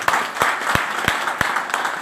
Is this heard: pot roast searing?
no